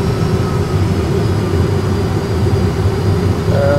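Airbus A320 jet engines roar in reverse thrust during the landing roll, a loud, steady, dense rumble that holds without a break, with no talk over it.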